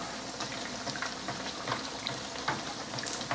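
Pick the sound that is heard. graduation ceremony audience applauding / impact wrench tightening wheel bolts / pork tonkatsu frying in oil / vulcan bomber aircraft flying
pork tonkatsu frying in oil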